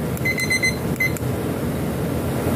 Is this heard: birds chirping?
no